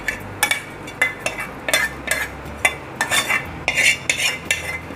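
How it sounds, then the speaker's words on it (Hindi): A spoon mixes cooked urad dal into a desi ghee tadka in a pan, making close, repeated metallic clinks and scrapes in an uneven rhythm, with no talking. "थोड़ी सी दाल इसमें डालकर एक बार तड़के में मिक्स कर देंगे।"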